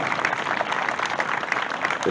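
Brief burst of audience applause for the dancers at a commemoration ceremony for Malvinas Combatants and Fallen Day in Villa Ángela, a dense clapping texture lasting about two seconds.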